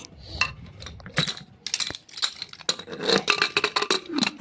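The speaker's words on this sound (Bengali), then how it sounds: "আর দেখুন ঢাকনা বন্ধ করে দিচ্ছি" A metal pressure cooker lid is fitted and closed over cabbage, giving close, bright clanks, scrapes and clinks of metal on metal in quick irregular bursts.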